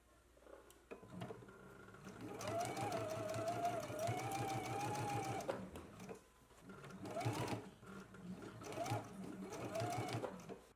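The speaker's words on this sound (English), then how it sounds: "And now we can just go ahead and stitch in a 1/2 inch seam allowance." A sewing machine stitches a half-inch seam on a sleeve, running in a steady rapid whir for a few seconds, pausing, then starting again in shorter bursts, close and alone.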